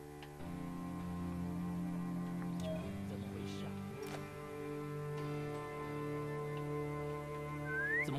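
Whistle in the video game Assassin's Creed Chronicles: China, a sustained tonal whistle with layered steady pitches that shift a few times across several seconds, alongside light game ticks and faint effects.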